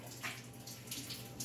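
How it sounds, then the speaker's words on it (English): Aquarium water draining through a python hose into a sink, a quiet continuous trickle and splash of running water with small gurgling surges, heard alone. "as long as you keep picking it up, the water will drain to the sink"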